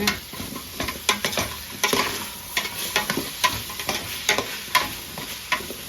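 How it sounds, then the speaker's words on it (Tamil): Spices sizzle and crackle in hot oil while a utensil stirs the pan, making irregular clinks and scrapes over the steady frying hiss. "இது வந்து தாளிப்போம்"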